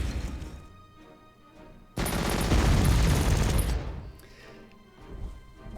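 Gunfire in the Panzer Corps strategy video game: a sudden loud burst of rapid shots and crashing impacts lasting about two seconds, then fading into quieter game ambience.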